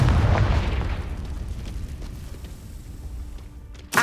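Confringo blasting spell in the Hogwarts Legacy video game: a single heavy booming explosion with a deep rumble that decays over a few seconds, followed by a brief sharp burst at the end.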